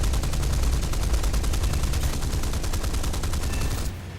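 Rapid, sustained cannon fire from a Boomerang fighter plane in a combat flight game, a dense, loud, continuous burst that cuts off abruptly near the end, leaving a lower engine drone.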